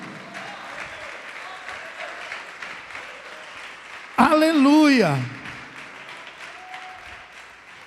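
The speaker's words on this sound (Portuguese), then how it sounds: "Você pode aplaudir o Senhor por isto?" Church congregation applauding at a worship service, a sustained round of clapping while a voice briefly rises in a loud shout partway through, then the applause fades under continuing sound.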